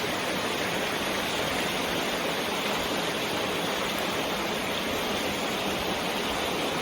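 Rushing water surges steadily through a breached beaver dam draining a flooded street, a loud, continuous broadband roar with no pauses or voices.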